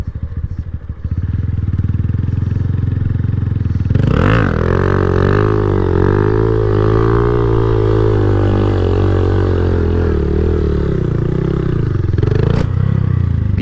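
A Honda Grom motorcycle idles with a rapid putter, then revs hard and holds a loud, wavering high-revving engine note during a wheelie attempt, with a further sharp rev near the end, close by.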